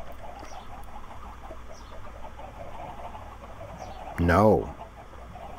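A Minecraft chicken gives one short, close cluck near the end over a low hum and faint background sounds, and someone says a single word.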